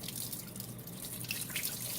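Sushi rice being rinsed by hand in a sink of water, with steady close sloshing and dripping as the grains are swirled around and water runs and trickles, no talk.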